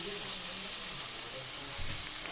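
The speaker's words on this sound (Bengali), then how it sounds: "দিয়ে ভালো করে নেড়ে চেড়ে 3-4 মিনিট ধরে ডাঁটাটা ভেজে একটি পাত্রে উঠিয়ে নেব" Taro stems frying in a pan with salt and turmeric, a steady soft sizzle with faint stirring scrapes, fairly quiet and continuous throughout.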